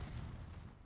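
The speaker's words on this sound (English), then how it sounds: "explosion" A deep, rumbling explosion in the Final Fantasy Type-0 HD video game, a dense low boom that fills the moment faintly and evenly without any voice over it.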